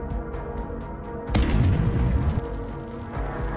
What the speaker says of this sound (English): Then comes the third shot, and with it, the Russian tank is engulfed in flames.